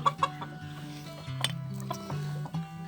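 A young rooster of a bantam Sebright breed clucks nearby in short repeated calls, with faint background rustle and no talk.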